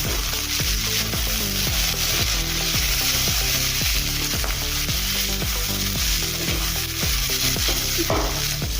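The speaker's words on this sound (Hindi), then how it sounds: "अब इसमें हम बारीक कटा हुआ गाजर डालेंगे। एक बार अच्छे से मिक्स कर लेंगे।" Finely chopped carrots stirred into vegetable pulao frying in a pan, with a steady sizzle under regular, rhythmic scraping strokes of a spoon, close and moderately loud, with no talking.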